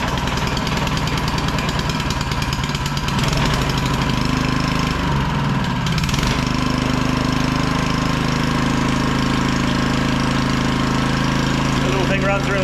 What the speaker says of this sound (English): The little thing runs really good. That's a 1500 watt generator.